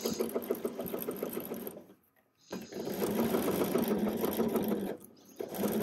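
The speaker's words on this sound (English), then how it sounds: "sew that facing back down. And I'm sewing from the right side, making sure everything's lying flat under there." A sewing machine stitches a waistband facing from the right side in steady rapid bursts, pausing briefly once before resuming; a voice speaks a single word.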